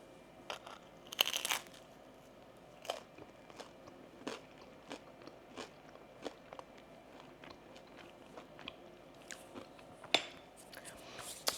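Bites and crunchy chewing of air-fried pizza reheated until crisp, a close, quiet series of irregular crunches spread steadily throughout with no talking.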